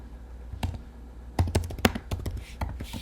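Quick bursts of typing on a computer keyboard, close by: a brief tap, a pause, then a flurry of uneven clicking keystrokes.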